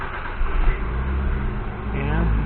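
A Nissan Micra K13 is started after an ECU reset, with a medium engine catching and settling into a steady idle, close and fairly loud, under light background talk.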